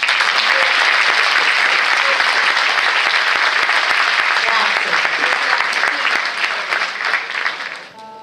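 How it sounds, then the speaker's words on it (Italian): A large theatre audience at Teatro Italia in Acerra applauds steadily and loudly for several seconds, the clapping fading toward the end as a voice starts. "ricorderai l'applauso di questo grande pubblico del Teatro Italia di Acerra"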